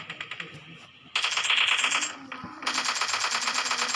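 Rapid bursts of automatic gunfire in PUBG Mobile crackle loudly in two long stretches, with a quieter gap of scattered shots between them.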